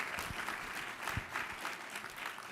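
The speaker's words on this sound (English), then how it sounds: "Can we get one more round of applause for the man who has reminded the world that there's an F in FDA," A round of applause from a crowd at a food policy event, moderately dense clapping that swells and dips slightly, heard at some distance and fairly quiet.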